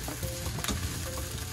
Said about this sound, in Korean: 여기 넣고 야채를 이제 어느 정도 볶는 거예요